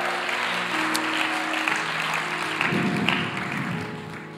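A church congregation claps during a sermon, a steady wash of many hands applauding together at moderate distance, fairly even throughout with a swell near the end.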